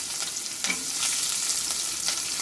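A steady, hissing sizzle of onions frying in hot oil in a pan, close and continuous, with occasional crackles and a scrape of stirring.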